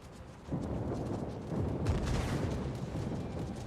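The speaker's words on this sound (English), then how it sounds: "I'm gonna try to bomb the Yamato" Bombs strike a battleship in a naval video game, producing a low, rumbling blast that swells and rolls on, heavy and fairly distant, rising again partway through.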